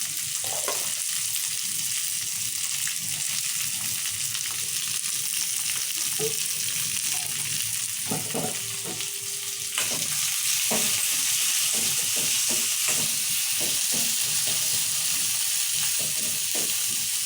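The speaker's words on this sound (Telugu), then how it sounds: "వేయించుకోవాలి బాగా ఇవన్నీ" Curry leaves and fresh coriander fry steadily in hot oil for paniyaram batter, a continuous dense sizzle with occasional stirring clinks and scrapes, close and fairly loud throughout.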